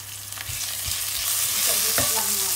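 Curry or chili paste sautés in a pan for a vegetarian curry, a moderate sizzle under repeated stirring, with several distinct scrapes and taps of a utensil against the pan; nobody speaks.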